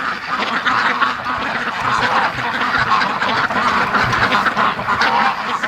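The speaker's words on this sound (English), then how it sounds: "Come on, ducks, go on in" A flock of Muscovy ducks heading into their pen, with continuous overlapping quacks and honking calls, close, loud and busy.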